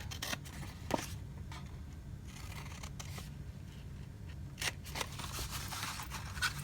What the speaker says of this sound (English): now what you want to do is cut up to the score line on all of these